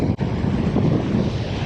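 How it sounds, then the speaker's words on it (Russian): Strong wind buffets the microphone at a pier in Kusadasi, Turkey, with waves washing in beneath a steady, loud roar and no break. "Сегодня ветер, волны набегают."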